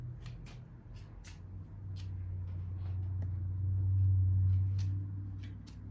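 A small fairy tale Lenormand card deck gets shuffled by hand. The soft, papery card riffles and slaps come in irregular bursts over a low background hum, close and quiet.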